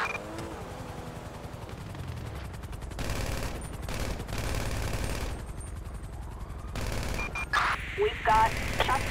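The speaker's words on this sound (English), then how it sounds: "We've got shots fired at an officer in West Vinewood Hills." Gunfire in GTA 5, bursts of rapid automatic shots and single cracks under ongoing police radio chatter, loud and close with repeated volleys.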